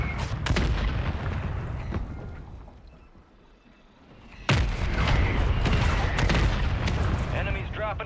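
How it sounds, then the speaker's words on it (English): Mortar strikes in a video game boom heavily: a few early blasts, a lull, then a sharp, close explosion followed by sustained rumbling and scattered further impacts, with voices talking over them. "Hostile mortar strike near your position."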